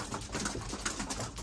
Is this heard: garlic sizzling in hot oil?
no